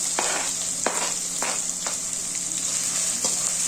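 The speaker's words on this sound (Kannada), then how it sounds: "ನೆಕ್ಸ್ಟ್ ಈರುಳ್ಳಿ ಹಾಕ್ತಾಯಿದ್ದೀನಿ" Sliced onion sizzling in hot oil with garlic, cumin and mustard seeds, a steady bright crackle broken by several soft clicks of a spoon stirring the pan, close and fairly loud.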